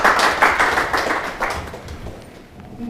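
An audience at a disability independent-living event claps for a professor's lecture, a short burst of brisk, close applause that thins and fades out within three seconds.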